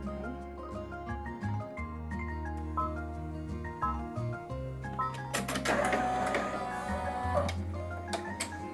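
An embroidery machine stitches a Halloween treat bag in the hoop, rapid ticking and shifting motor tones that grow busier and louder midway, close and without talk.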